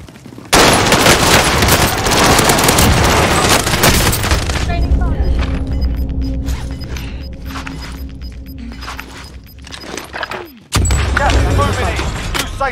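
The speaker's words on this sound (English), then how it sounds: "Throwing flashbang!" Call of Duty Warzone match on Rebirth Island with a loud near flashbang blast followed by dense bursts of gunfire and booms, easing off before another sharp burst near the end, with voices talking over it.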